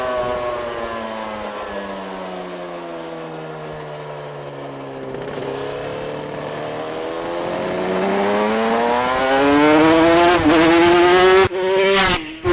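A 1989 Pepsi Suzuki RGV500 500cc two-stroke GP motorcycle is ridden, its loud buzzing engine note falling and then climbing steadily as it pulls harder, with a sharp shift near the end.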